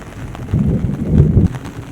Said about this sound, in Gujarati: એટલો વરસાદ પડે છે આ સાઈડ તો